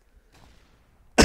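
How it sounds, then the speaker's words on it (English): A single harsh cough bursts out at the very end after near silence, close and loud, in a room full of cat hair. "I'm sorry about the coughing"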